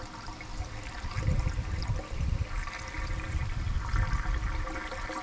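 Water is poured into the cooling system of a 1992 8V92 fire truck diesel engine, a close, gurgling, splashing flow that surges in uneven pulses and keeps running throughout with no talk.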